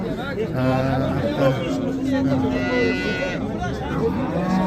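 A cow lowing amid the busy crowd at Rishton's livestock market, a calf nearby, with steady chatter and voices of traders running beneath the long drawn-out moos.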